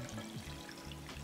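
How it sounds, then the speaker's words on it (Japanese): Water pouring into a cooking pot holding raw pork spare ribs, a steady continuous splash and trickle heard up close with no talking. "そしたらここに水を注ぐ、"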